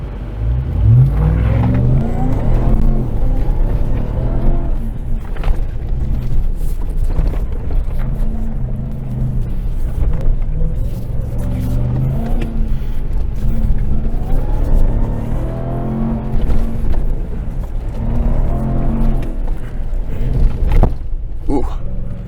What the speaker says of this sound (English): We're just like hot lapping at this point